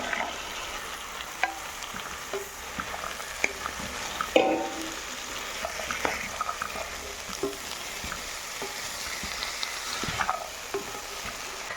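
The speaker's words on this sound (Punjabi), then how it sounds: "ਸਬਜ਼ੀ ਆਪਾਂ ਬਿਲਕੁਲ ਹਿਲਾ ਦਿੱਤੀ ਆ" Chopped carrots, potato and peas sizzle softly in a frying pan while a utensil scrapes and taps against the metal now and then, close by and steady.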